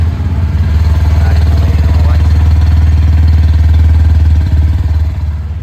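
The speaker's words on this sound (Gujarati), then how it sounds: "સૌ પહેલાં તમને હવે ઇન્સ્ટ્રુમેન્ટ ક્લસ્ટરની પહેલાં તમને બાઇકનો અવાજ સંભળાવી દઉં." A 2025 Bajaj NS 125 motorcycle, in neutral with an underbelly exhaust, idles loud and close with a steady low thrum and even pulsing beat throughout.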